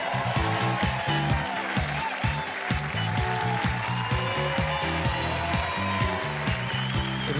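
Studio audience applauding a guest's entrance on a television show, dense clapping with rhythmic accents over music, with faint voices mixed in.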